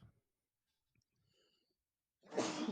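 A person sneezes once near the end, a short loud burst after near silence and faint shuffling, with no talk during it.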